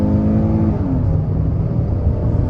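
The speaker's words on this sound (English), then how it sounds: "One more highway pull on the gas." A 2023 Kia Telluride SX AWD accelerates hard on a highway, its engine drone loud and steady and climbing in pitch beneath heavy road and wind roar, with no voices.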